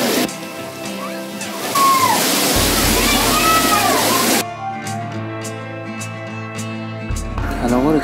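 A forest waterfall in northern Iran rushes and splashes nearby as a loud, continuous wash of water, with voices talking over it during parts of the stretch.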